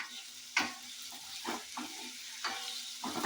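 Cubes of paneer frying in a pan with a low steady sizzle, a spatula scraping and stirring in several separate strokes, close and fairly quiet, no talk.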